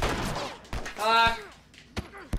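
Gunshots in The Last of Us crack out in a few sharp, separate bursts, mixed in with a tense voice and a short tonal game sound between the shots.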